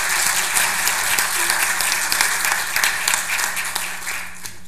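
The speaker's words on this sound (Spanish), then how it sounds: "Démosle un aplauso, ¿verdad?" An audience at a forum on the family institution in Mexico applauds, a dense, sustained wash of many hands clapping that stays loud for several seconds before easing slightly at the end.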